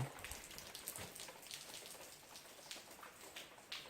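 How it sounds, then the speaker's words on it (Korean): Quiet rain falls steadily, with soft scattered patters of drops hitting a surface and no voices. "빗소리, 빗소리, 빗 떨어지는 소리입니다"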